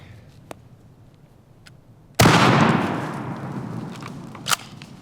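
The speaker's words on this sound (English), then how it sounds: "So we'll go ahead and shoot it with a 12 gauge slug." One loud, sharp blast from a 12 gauge shotgun firing a slug, with a booming tail that slowly decays, followed by a smaller pop; a few faint clicks come before it.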